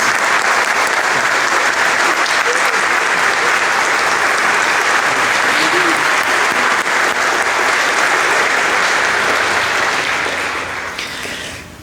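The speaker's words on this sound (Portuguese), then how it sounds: "Uma salva de palmas." A Catholic congregation at the Solemnity of Saints Peter and Paul gives a long round of applause for a newly welcomed member, dense and loud throughout, then tapering off near the end.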